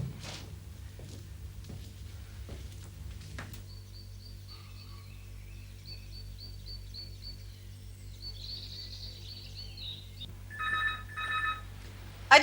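A landline telephone rings in a home scene from a Hindi TV serial. Trilling bell rings come in near the end over a steady low hum, with light bird chirps in the background and nobody talking.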